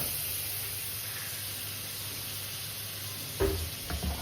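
Butter in a hot pan for stuffed mushrooms: a steady, fairly faint hiss of sizzling fat throughout, with a few louder spatters and scrapes toward the end.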